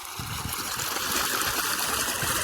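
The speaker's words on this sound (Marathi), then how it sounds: "पाटाचं पाणी आहे बघा पाटाने पाणी देतात" Irrigation water runs through an open channel in a farm field watering wheat and chickpea crops, a steady, close rushing flow without pauses.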